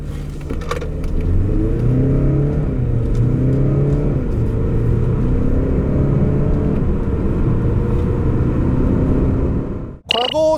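A 2021 Hyundai Santa Fe 2.2 diesel AWD accelerates hard, its engine drone loud and steady as it climbs through the revs for about ten seconds before cutting off abruptly.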